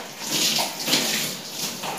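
Shower water runs in a steady, close hiss throughout, a continuous broadband spray with slight surges and no voices.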